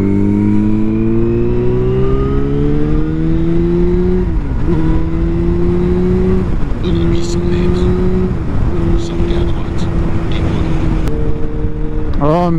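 Motorcycle engine revving and shifting through gears while riding on a road in France, loud and close throughout with rising and falling pitch, as someone talks over it.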